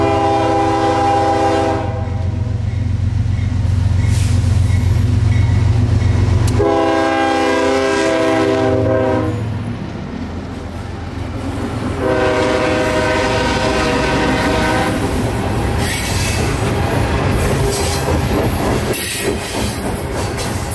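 A train on the S-Line rolls past with long horn blasts, then a rising rumble of wheels, clickety-clack over rail joints and some squealing, loud and close with no voices.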